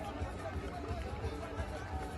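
Crowd cheering and chattering at a West Indies v Bangladesh cricket match after a boundary, a steady broad roar from many spectators with a faint low pulse beneath.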